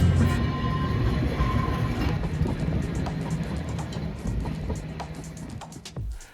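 Manx Electric Railway train rolling along, a steady loud rumble of wheels on track with a faint squeal, close by and continuous until it fades at the end.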